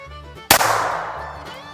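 A single sharp report from a .25 ACP pistol at close range, a loud crack followed by a decaying ring and echo, with no voices.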